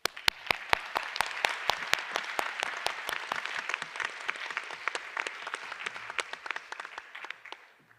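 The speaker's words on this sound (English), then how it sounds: "I think that definitely deserves a round of applause" Members at a marine mammal science society general meeting give a round of applause, with individual claps standing out crisply over a softer wash of clapping that tapers off toward the end.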